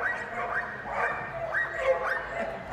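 Dogs at the Crufts trailrunners display bark and yip in quick, repeated bursts over a busy arena background, fairly close and moderately loud throughout.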